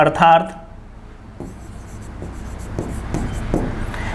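Marker or chalk writing on a board during a maths lesson, a soft scratchy rubbing in short strokes after a brief burst of a voice at the start.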